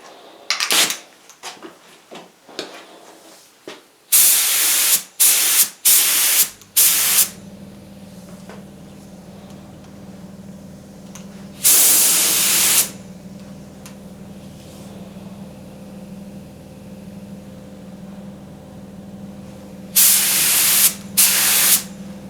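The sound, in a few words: spray gun spraying lacquer coats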